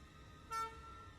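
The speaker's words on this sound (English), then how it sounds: "Snorky's death honk is the saddest thing I've ever heard" Snorky's honk from The Banana Splits Movie: a single short, clear horn toot, fairly loud against a quiet background and lasting about a fifth of a second.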